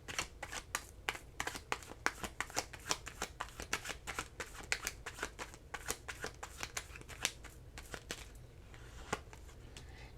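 Oracle cards are shuffled by hand in a quiet room, giving a rapid series of crisp, close riffling snaps in an irregular rhythm that thins out near the end.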